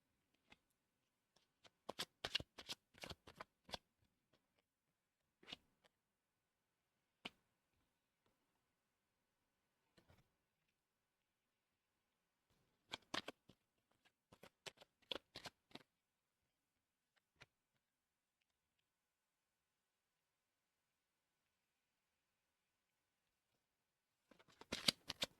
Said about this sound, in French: je vais déjà mettre toutes les cartes